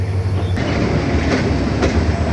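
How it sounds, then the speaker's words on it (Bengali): A passenger train leaving Badarganj station in Bangladesh rumbles along the rails nearby, a dense, loud roll with faint rhythmic clacks of wheels over track joints. "আমাদের ট্রেনটি বদরগঞ্জ ছেড়ে গেল"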